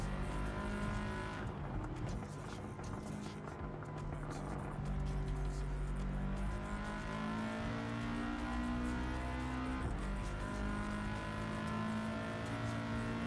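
A small car's engine in Gran Turismo 7, a steady, smooth, almost electric-sounding drone held at constant loudness for the whole stretch, with faint tire noise layered underneath.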